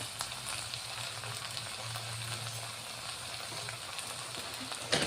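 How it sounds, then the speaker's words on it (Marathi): Chow mein noodles stir-fried in a pan give a steady, close sizzle with soft scraping and tossing throughout, no voices. "आता याला छान परतून घ्यायचं आपल्याला."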